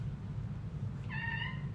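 A cat gives a single short meow about midway, fairly close and clear over a low steady room hum.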